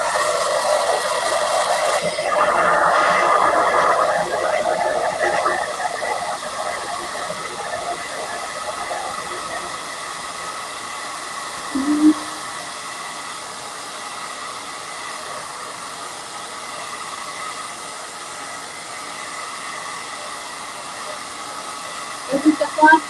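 A hair dryer blows steadily on freshly painted craft witch legs, a constant airy hiss that runs throughout, slightly stronger at first, with a few faint knocks.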